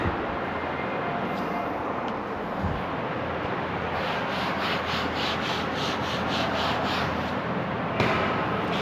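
A board in a maths class is rubbed out with steady back-and-forth scrubbing strokes that run continuously for several seconds, close and moderately loud.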